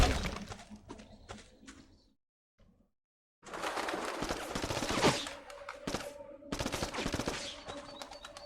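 Rapid rifle gunfire in a video game, dense bursts of shots in several loud volleys with a brief silent gap between them.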